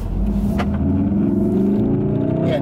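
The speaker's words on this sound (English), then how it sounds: "but the exhaust note changes just a tad" A 2017 Volkswagen Golf R in race mode, its engine and exhaust droning loud and close, rising in pitch as it accelerates over a few seconds, with no voices.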